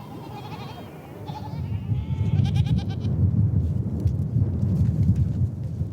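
Goats and sheep bleat at a desert watering hole, several overlapping calls at close range early on, followed by a dense, steady low rumble of the herd.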